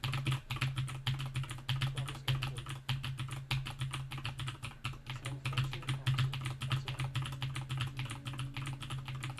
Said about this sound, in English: do you like listening to my keyboard?